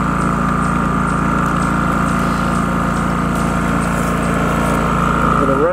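A WEN 3800 inverter generator runs steadily at close range with its fuel shut off, burning off what is left in the carburetor, a constant droning engine with no change in pitch.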